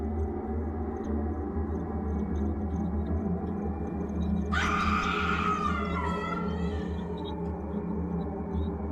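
A shrill, wavering scream rises suddenly and lasts about two seconds over a steady low rumble of background noise.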